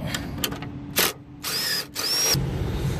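A power drill whirs in a few short bursts with pauses between them, close by and fairly loud, with some ratcheting clicks, during a CB coax install on a Kenworth T680/T880 truck.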